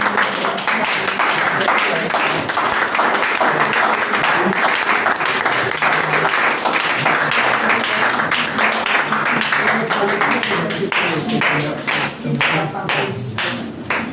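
A church congregation at a Sunday praise and worship service breaks into sustained, dense applause and acclamation. It fills the whole stretch at steady loudness and thins a little toward the end, with voices mixed in.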